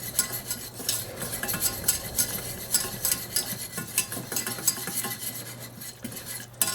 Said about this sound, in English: We get to stand here and whisk for like half an hour.